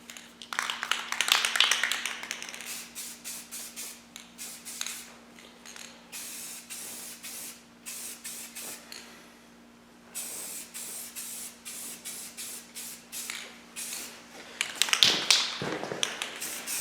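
An aerosol spray can lays a second coat of paint onto a Tusk rack for a KLX 300 in repeated short hisses, the nozzle clicking between passes, with quieter gaps and a steady low hum underneath.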